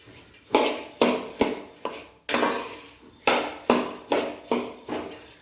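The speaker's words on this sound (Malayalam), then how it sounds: "ഹൈ ഫ്ലെയിമിൽ വെച്ച് നമുക്കിങ്ങനെ വറുത്തെടുക്കാം" Coriander seeds being dry-roasted in a pan on high flame, with a spatula scraping and knocking against the metal in about a dozen sharp, evenly spaced strokes, close and alone.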